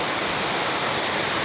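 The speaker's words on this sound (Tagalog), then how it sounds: "Maulan." Steady rain falls in a dense, even hiss with no breaks, filling the whole short stretch at a constant level.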